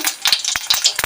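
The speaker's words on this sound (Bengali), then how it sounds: "তোমার তেল গরম হয়ে গেছে, দিয়ে দেবো এতে আমি গোটা জিরে, দুটো গোটা শুকনো লঙ্কা" Whole cumin seeds and two dried red chilies hit hot oil in a Bengali kitchen and crackle and sizzle. Quick irregular pops and spits come close and moderately loud, with no speech over them.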